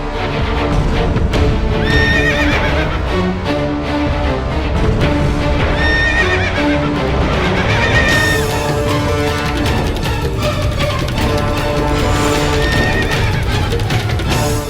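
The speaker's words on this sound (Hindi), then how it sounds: "प्रताप का घोड़ा भिदक रहा है।" A warrior's horse rears in a Maharana Pratap historical TV drama, neighing repeatedly and loudly over dramatic music while its hooves clop beneath, the whinnies recurring about every two seconds.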